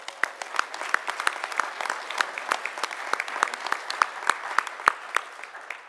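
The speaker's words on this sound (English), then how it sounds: "I want you guys to give yourselves a round of applause for being here." Applause from a convention audience, a steady patter of many hands clapping at close range with sharp individual claps standing out, sustained for several seconds without speech.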